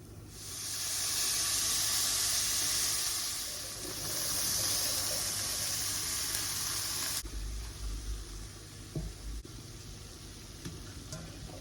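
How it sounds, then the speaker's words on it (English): Corn, peas and carrots sauté in a pan for fried rice, giving a steady, close sizzling hiss that swells and eases, with lighter crackle and a few faint knocks of stirring near the end. "Sauteed vegetables. We're just using corn, peas, and carrots."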